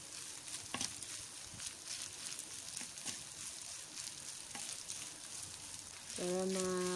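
Rice being stirred with margarine in a pan, giving a soft, faint sizzle with scattered scraping and clatter of the spoon, then a brief tonal sound at the end.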